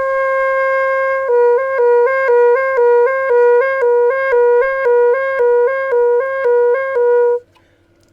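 A Xaphoon pocket sax holds a clear reedy note while a finger repeatedly covers and uncovers a hole, making a steady alternation between two pitches. The notes are close and loud and stop abruptly at the end.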